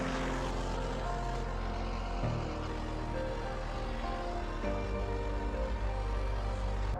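A propane torch burns rust off the steel frame of a 1951 Ford Shoebox bench seat, a loud, steady roaring hiss that holds throughout with slight shifts in tone.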